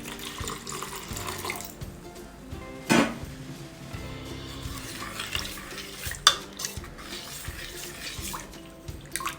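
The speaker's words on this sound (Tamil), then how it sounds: "கொஞ்சம் வாட்டர் ஆட் பண்ணிக்கலாம்." Water pours into a yogurt and gram flour mixture for Gujarati kadhi, a close running splash with a couple of louder clinks against the bowl, and no voices.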